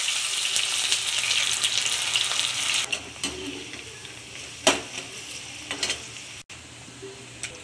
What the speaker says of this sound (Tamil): அதுக்கு வெண்டைக்காவை நம்ம வறுத்து எடுத்துடலாம்.